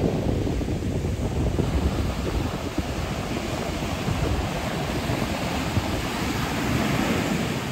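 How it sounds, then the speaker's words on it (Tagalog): Strong ocean surf roars continuously, waves crashing and churning with heavy wind buffeting the microphone, on a beach in San Felipe, Zambales. "Grabe, lakas ng alon."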